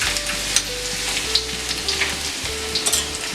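Chopped ginger and garlic fry in hot oil in an iron kadai over a high flame, a steady close sizzle with crackling pops and occasional stirring scrapes, with no talk.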